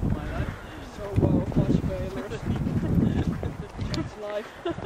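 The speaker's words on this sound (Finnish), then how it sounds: "kylläpä täällä nyt tuulee." Strong wind blowing outdoors on a cloudy evening, buffeting the microphone with a continuous low rumble that rises and falls in gusts, with faint voices underneath.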